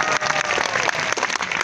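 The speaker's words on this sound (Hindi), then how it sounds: "आप सब तालियां एक साथ बजा सकते हैं" Loud, close applause from a crowd at a religious fair, many hands clapping together in a dense, slightly uneven rhythm with sharp individual claps standing out.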